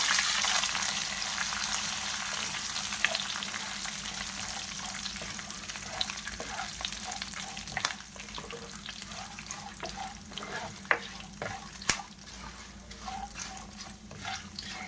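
A spoonful of cumin seeds fries in a pan with a continuous fine sizzle, scattered pops and crackles along with a few clinks of stirring, and no one talking.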